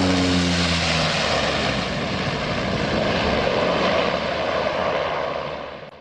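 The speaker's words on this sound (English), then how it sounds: "This plane is too fast and caused a little bit of turbulence dancing at one of the most dangerous airports in" A propeller airplane lands at Talcha airport in Nepal, its engine droning loud and close with a low harmonic hum at first, then easing into a broad roar that fades away.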